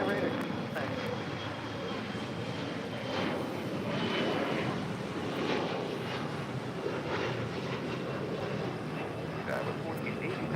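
An Air Canada airliner takes off from runway 25 right at LAX, a steady broad engine roar holding loud and even throughout, with faint voices under it.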